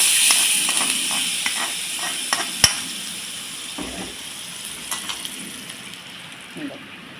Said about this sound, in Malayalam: നെയ്യൊന്ന് മെൽറ്റായി കഴിയുമ്പോൾ നമുക്കിതിലേക്ക് അണ്ടിപ്പരിപ്പും മുന്തിരിയും വറുത്തിടാം